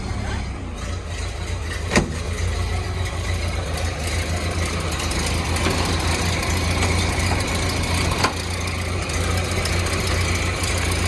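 A 1931 Ford Model A Tudor Sedan engine idles steadily at a low, even rumble. The idle holds close and constant throughout, with a faint irregular knock in its rhythm and no talk.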